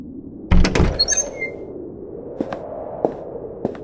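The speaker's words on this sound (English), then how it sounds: "as I pushed open the heavy wooden doors" A heavy wooden door in an old mansion swings open with one loud thud and a high creaking squeal, then a few faint knocks and ticks ring out in a quiet, echoing room.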